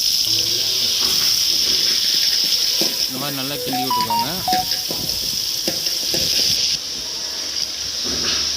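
Chopped onions sizzle and hiss steadily in hot oil for chicken curry, with occasional stirring, while a person talks over the frying.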